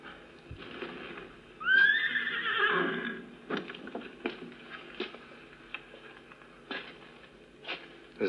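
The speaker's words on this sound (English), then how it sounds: "The horses are very restless." Restless horses give a loud, drawn-out whinny near the start, followed by scattered hoof clops and shuffling at moderate distance in a quiet setting.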